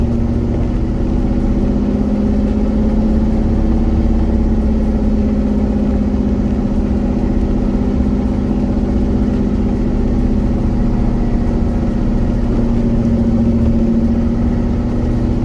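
A car engine at light throttle holds around 4,000 RPM while creeping along slowly, giving a steady, continuous drone with a strong low hum that stays close and even throughout, with no talk over it.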